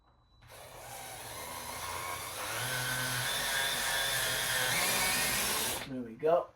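A power drill fitted with a short bit whirs steadily for about five seconds while driving a screw during a smoke and CO alarm mounting, close and fairly quiet, then stops before someone briefly speaks.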